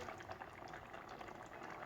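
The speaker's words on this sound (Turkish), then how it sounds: "Tencerenin altını kısıp pişmeye bırakıyorum" Soft, steady bubbling of a leek and rice dish gently simmering in a pot, quiet and close, without any voices.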